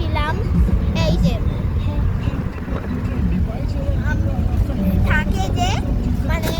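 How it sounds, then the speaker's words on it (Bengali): Strong wind roars through the open window of a moving car, a constant loud buffeting rumble close to the ear, while someone talks over it throughout. "এই যে জোরে হাওয়া আছে, তাই আমার চুলগুলো উঠছে, জানলা ধারে বসেছি"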